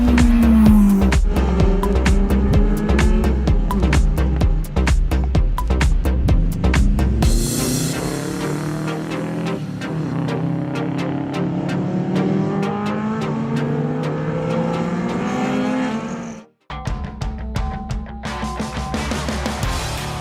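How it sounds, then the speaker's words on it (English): A pace car leads a field of 150cc road-racing motorcycles onto the circuit at a regional road racing round, a loud continuous mix of revving engines with rising and falling pitch, and a brief dropout near the end. "Carshop.co is a pace car leading the 150 motorcycles out onto the track"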